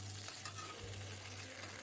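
Potatoes sauté in a pan for a vegetarian paneer curry, a steady close sizzle of frying with faint stirring scrapes and no talking.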